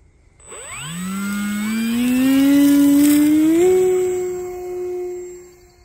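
An E-flite Extra 300 RC plane takes off from a park field, its electric motor whine rising sharply in pitch from idle to full throttle, then holding a loud, steady buzz and easing slightly as it pulls away.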